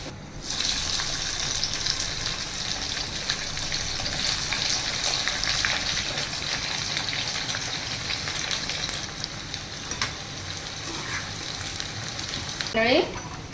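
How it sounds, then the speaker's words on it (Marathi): Mixed vegetables frying in a pan for a Malvani-style vegetarian meal, a dense steady sizzle with scraping stirs throughout and a short metallic scrape near the end, close and unbroken, with no speech. "सगळी आता भाजी फ्राय करून झाली माझी"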